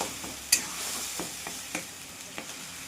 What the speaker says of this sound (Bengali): এবার ভালো করে কষে নেব মশলাটা।